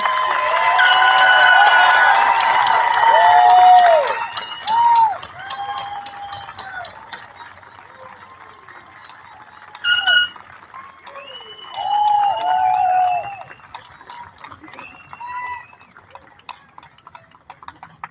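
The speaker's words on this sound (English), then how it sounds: "So let's stand up, give them a round of applause, and let's get united together" A crowd at the Old Bridge High School 2020 graduation ceremony applauds and cheers, loud at first, with whistles and shouted voices, then thins to scattered clapping and calls before a second short burst.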